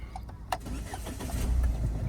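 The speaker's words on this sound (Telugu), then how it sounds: "స్టార్ట్ అయింది సింగిల్ సెల్ఫ్ స్టార్ట్ అయిపోయింది స్టార్టింగ్ ట్రబుల్ అనేది ఏం లేదు" A 2018 Ford EcoSport Titanium diesel started with a push button: a short click and a brief crank, then the engine catches and settles into a low, steady idle rumble.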